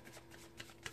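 A tarot deck is shuffled in a brief, quiet burst of soft riffling card flicks, close up with no talking.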